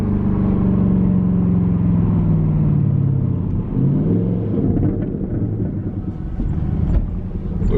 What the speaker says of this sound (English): I want you guys to hear this exhaust.